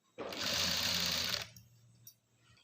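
A sewing machine runs a top stitch along piping with lining cloth underneath, a single steady whirring burst of just over a second, close by, followed by a quiet low hum.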